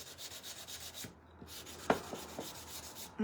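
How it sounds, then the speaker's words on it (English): Dry, steady rubbing and scraping of a sanding block against painted wooden shims, with a few soft knocks mixed into the strokes. "So I try to usually use my sanding blocks when I"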